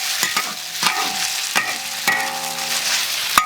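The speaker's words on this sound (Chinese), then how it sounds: "把这鸡肉啊下去炒一下，给它炒个熟" Chicken breast pieces stir-fry over high heat in a hot wok for kung pao chicken, with loud sizzling broken by repeated sharp spatula scrapes and clanks against the metal.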